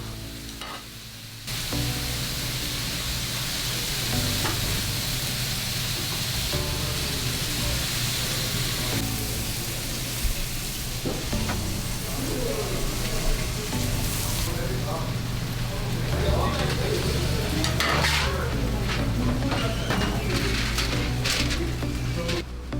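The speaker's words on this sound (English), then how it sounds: "Now the ribeye will make its way back onto the grill" Ribeye steak on a restaurant grill, a loud, continuous hiss and crackle of sizzling fat, close up, with kitchen clatter and bursts of spatter building toward the end and some speech mixed in.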